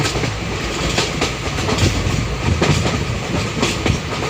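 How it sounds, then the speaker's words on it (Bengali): A train rolling through the hills near Badarpur station on the route to Haflong in Assam, its steady wheel clatter and carriage rumble loud and continuous throughout, with no voices. "ট্রেন এগিয়ে চলেছে বদরপুর স্টেশনের কাছে।"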